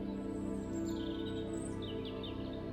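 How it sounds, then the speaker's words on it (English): Birds singing in a forest, several high chirps and warbling phrases heard at moderate distance over a steady low background hum. "And you can hear the melody of the birds all around you."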